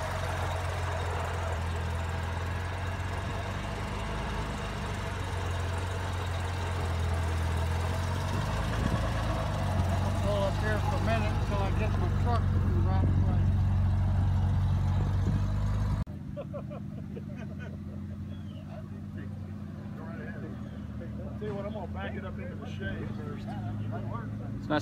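A visiting classic British car's engine rumbles near, idling then pulling away at a British car meet in the Ozarks; the drone drops off sharply partway through while people talk over it.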